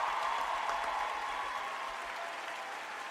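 Steady applause from a crowd, dense clapping that stays even throughout with no voices on top.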